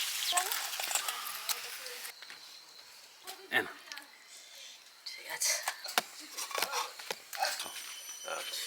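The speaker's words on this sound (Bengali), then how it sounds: "কচু লাল করে ভেজে নিয়েছি" Man kochu taro pieces fry in hot oil, a steady close sizzle with intermittent stirring scrapes, while a person talks over it.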